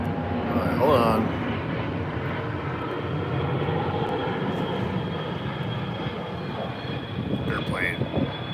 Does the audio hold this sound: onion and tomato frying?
no